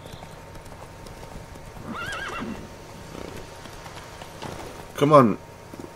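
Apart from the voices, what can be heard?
horse hooves in The Witcher 3 video game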